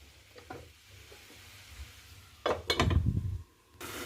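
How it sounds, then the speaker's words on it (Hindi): Tomato and onion cooking with salt in a pan for matar paneer, with soft scattered clinks early, then a loud burst of sizzling and stirring mid-clip that fades before a final hiss. "थोड़ी सी हम नमक इसमें डाल देते हैं, हाफ टेबल स्पून। साथ में इसे अच्छे से मिक्स करके हम 2 मिनट के लिए कवर कर देंगे"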